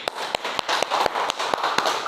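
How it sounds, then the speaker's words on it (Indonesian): A classroom of children claps in a short burst, a quick run of roughly eight or nine sharp, close hand claps spaced unevenly over about two seconds. "tepuk tangan dulu"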